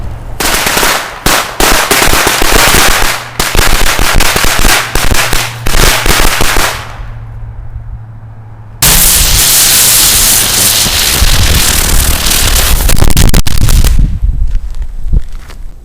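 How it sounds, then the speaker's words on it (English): Fireworks bursting in rapid, dense crackling volleys, loud and continuous, with a brief lull before another burst of bright crackles and bangs. "Don't you just love fireworks?"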